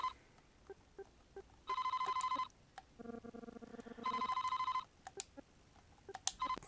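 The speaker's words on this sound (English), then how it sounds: "Oh, looks like we got a phone call." An electronic telephone ring in the Famicom Detective Club Part 2 game sounds in two repeated bursts of warbling tones with a short pause between, clear and alone.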